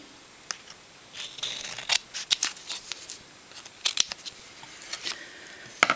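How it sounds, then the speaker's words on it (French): Scissors snip paper for a handmade card in a close series of crisp, irregular cuts with short pauses between them, and no talking. "je vais couper ici le bout que je trouve trop long"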